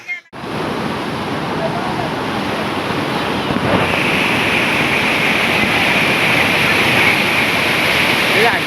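Flood water pours over a bridge on the road to Dobadewadi near Trimbakeshwar, Nashik, a loud continuous roar with wind buffeting the microphone throughout.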